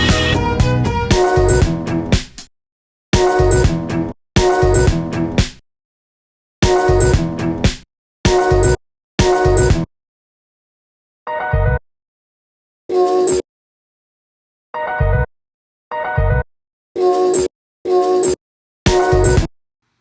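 Sampled song remake layered with another sample, playing as loud full-range chopped music bursts, longer at first and then shorter stabs separated by abrupt silences.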